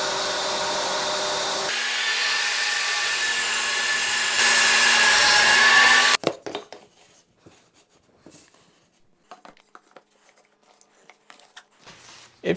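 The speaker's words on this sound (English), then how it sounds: "I'm going to use the table saw to cut a notch for the poster" A table saw whines steadily at high pitch, rising as it bites into wood cutting a notch for about six seconds, then cuts off into scattered clattering and shuffling.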